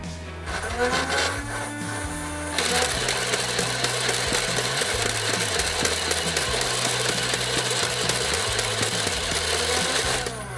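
X-Shot Insanity Rage Fire motorized dart blaster buzzing as its motor spins up, then firing full auto in a rapid, steady, mechanical stream of darts that runs unbroken for several seconds, loud and close.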